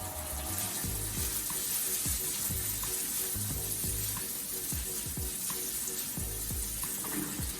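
Tofu sautéing in a pan for a salad gives a loud, constant sizzle and hiss, with repeated low scraping and stirring knocks throughout.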